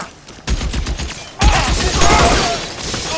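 Rapid gunfire in L.A. Noire, a loud fusillade of overlapping shots and bursts that kicks in after a short lull and keeps going with a dense, echoing crackle.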